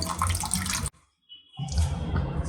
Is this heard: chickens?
no